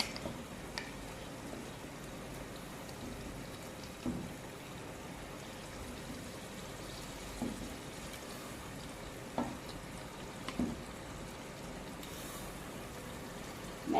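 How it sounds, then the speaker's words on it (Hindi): Mutton pieces frying in a well-roasted spiced onion masala, giving a low steady sizzle with a few soft stirring knocks, moderately close and without talk. "अभी मैं इसमें डालने लगी हूँ गोश्त"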